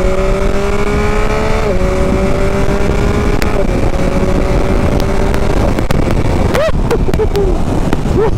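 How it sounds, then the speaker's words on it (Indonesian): A Yamaha MT-09 motorcycle accelerates hard through the gears, its engine note climbing loud and close, then dropping in quick, clean steps at each quick-shifter upshift with no clutch pause between them. "Macam mana dengan dia punya quick shifter? Up."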